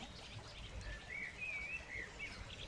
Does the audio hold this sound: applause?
no